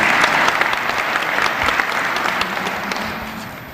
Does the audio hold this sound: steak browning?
no